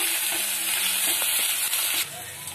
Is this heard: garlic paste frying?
yes